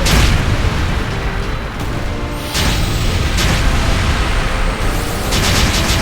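Repeated cannon blasts and explosions from the video game Ys X Nordics, a dense, loud barrage of booms and bursts rolling continuously with a few sharper impacts, no talk.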